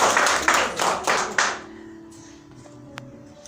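A church congregation claps hands during a worship service, a short burst of several loud claps that fades quickly into a quiet room with a faint lingering tone.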